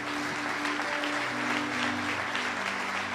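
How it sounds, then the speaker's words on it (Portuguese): Congregation at a Brazilian church service applauding the Lord, a dense continuous roar of clapping that holds steady and loud throughout, with a low hum underneath. "Pode aplaudir o Senhor."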